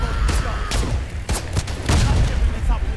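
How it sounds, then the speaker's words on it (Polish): Gunfire and grenade blasts from a Verdun defense video game, several sharp booms and crackling shots in quick succession over a loud rumbling background. "Można z granatem podejść i wybuchnąć"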